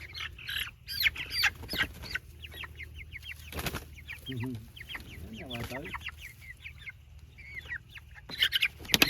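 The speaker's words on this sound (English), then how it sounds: "all 28 meat birds now in pasture, and they're already starting to scratch around" Meat chickens cluck and chirp outdoors in a pasture, scratching around, with scattered short calls from several birds and a few louder squawks over a low steady hum.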